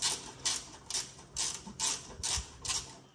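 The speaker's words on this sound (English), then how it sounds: "I'll start by removing these three 14 mil nuts on the top." A ratchet spins off the three 14 mm top nuts on a Holden Trailblazer strut during a lift kit install, giving a series of about seven close, rhythmic bursts of clicking with short pauses between them.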